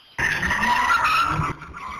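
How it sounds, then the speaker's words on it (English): Cars doing donuts in an intersection during a street takeover, their tires giving a loud, sustained screech for over a second against engine noise, then dropping back to a lower background roar. "you can see and hear a street takeover, cars doing donuts in the intersection"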